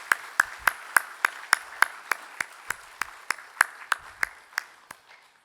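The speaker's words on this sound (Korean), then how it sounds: "다 같이 한번 박수로 큰 힘찬 박수 부탁합니다" Congregation at a church evening worship service claps together in a steady, evenly spaced rhythm, about a dozen sharp unison claps, close and moderately loud, then fading out.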